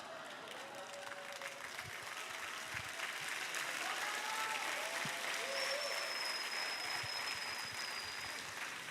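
Steady applause from a crowd fills the whole stretch, dense and even, with faint voices mixed in.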